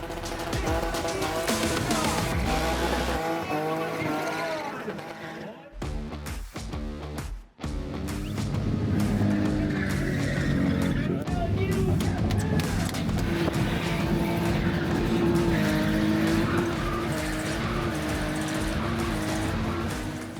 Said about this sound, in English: You see the car spinning, but remember, these cars don't spin themselves.